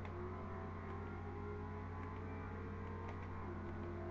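A continuous Ford GT V8 engine drone in the video game Forza 4 hums steadily throughout, a smooth sustained motor tone without pauses or voices.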